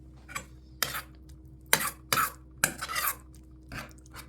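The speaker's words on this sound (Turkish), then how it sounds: "Şimdi bunları güzelce çırpacağız." Eggs, milk and oil for a Thrace-style leek börek filling are beaten in a bowl, giving a series of scraping, clinking strokes of utensil against the dish, in separate bursts with short pauses, close and fairly loud.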